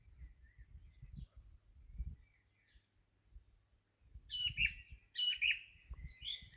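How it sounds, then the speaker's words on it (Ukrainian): Birds chirping in short bright bursts over low background rumble, a few quiet tweets early, then livelier calls toward the end. "Ну, птички співають, пташечки"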